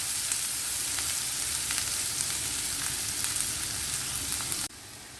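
Chopped onions and green chillies frying in hot oil, a loud, steady, close sizzle that drops abruptly to a quieter hiss near the end.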